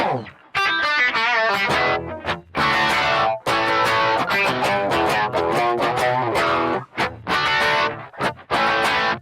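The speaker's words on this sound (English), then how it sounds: "I'm going to add in what's called the detune doubler" Electric guitar plays AC/DC's Back In Black through a detune doubler effect, strumming and riffing with a thick, layered, slightly detuned doubling that sounds like two guitars, loud and continuous with short pauses.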